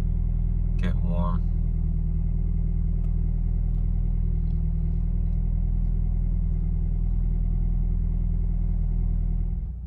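A car warming up before a crank pulley test idles in a steady, close, low rumble that holds evenly throughout, with a brief sharp sound near the start.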